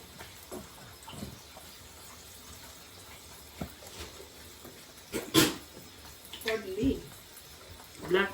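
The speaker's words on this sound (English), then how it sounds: "I'm putting just a little bit of water." Boiled water from a kettle splashes into a pot in short uneven pours amid kitchen noise, near and moderately loud, with a voice talking around it.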